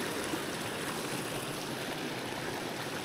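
A mountain trout stream in a torrent rushes over boulders, producing a constant broadband watery hiss and roar, moderately loud and steady throughout, with no voices.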